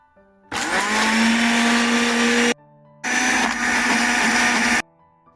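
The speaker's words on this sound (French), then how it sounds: "Je vais passer tous ces ingrédients-là au mixeur." A kitchen blender whirs loudly in two bursts, about two seconds each with a short pause between, blending a chicken marinade of ginger, anise seeds and bay leaves.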